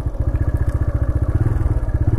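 A 2023 TVS Raider 125 BS6 motorcycle runs during a top speed test, its single-cylinder engine thumping in a fast, steady, loud rhythm close to the microphone, with no talking.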